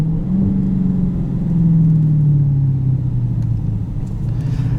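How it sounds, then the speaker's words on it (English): A 2020 Dodge Challenger Hellcat pulls along with a steady, loud supercharger whine that gradually drops in pitch over a deep, rumbling exhaust note, heard close up from inside the car with no talking. "the best part about it is just the supercharger whine. Matched with that exhaust note"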